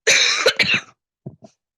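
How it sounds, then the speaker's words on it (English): Someone speaker at a masterclass coughs and clears her throat: a harsh burst of close coughs, then two short quieter throat-clearing sounds after a pause, with no talk. "I'm just having a little cough"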